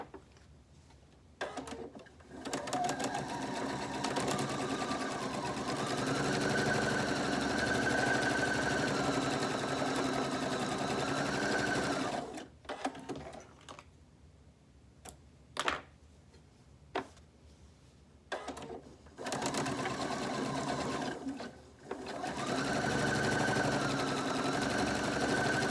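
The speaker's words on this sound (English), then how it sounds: "we are going to sew right down the sides, and as you go over the elastic, do a quick little back stitch" Sewing machine running in long steady bursts as it stitches down the sides of a pocketed fabric face mask over elastic, with brief pauses and a few sharp clicks between runs.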